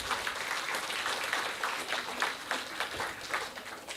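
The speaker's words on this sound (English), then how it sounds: "Can we please have a round of applause for all the speakers so far?" An audience at a conference on off-form concrete gives a round of applause for its speakers, a continuous wash of many hands clapping at moderate, fairly even volume, heard from within the hall.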